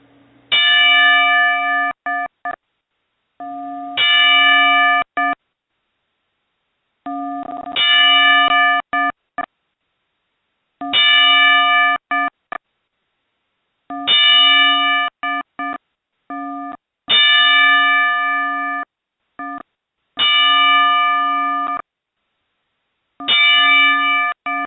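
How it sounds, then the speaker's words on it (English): A memorial bell tolls in a slow, evenly spaced series of ringing strikes, each clear and sustained before cutting to silence, with about eight tolls heard alone. "So we're going to toll the bell 10 times out of respect to our fallen comrades."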